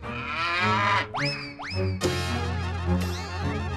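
A buffalo moos in a comedy sketch, drawn-out low lowing calls with rising pitch sweeps around the middle, loud and close, backed by a steady low hum.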